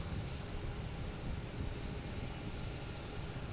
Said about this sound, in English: So JetBlue 166 going past me right now